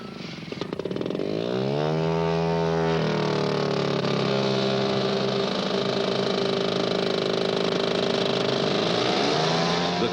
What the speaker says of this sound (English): the 4 engines put out some decibels